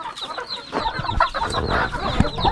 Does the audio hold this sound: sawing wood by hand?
no